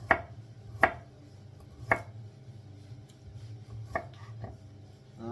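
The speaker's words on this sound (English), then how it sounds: "These bits here, you don't throw them away. No, you cut them thinly." A kitchen knife slices thinly through cauliflower stalks on a cutting board, with five or six crisp, separate chops spaced irregularly over a low background hum; a voice speaks briefly.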